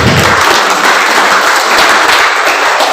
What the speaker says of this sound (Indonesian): Tepuk tangan untuk beliau-beliau